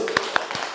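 A few sharp hand claps in a classroom clapping game, spaced irregularly, close and clear.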